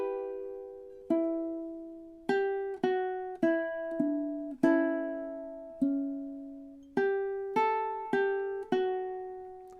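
The first two measures of a song picked on ukulele, about a dozen clear plucked notes in a measured melodic rhythm with brief pauses, each note ringing and decaying, close and alone.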